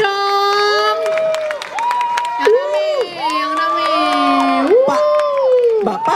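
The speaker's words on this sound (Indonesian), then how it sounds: "Tepuk tangannya sekali lagi yang rame dong." Crowd at a cosplay competition cheers, shrieks and claps steadily, with high rising and falling shouted voices layered over scattered handclaps, loud and close throughout.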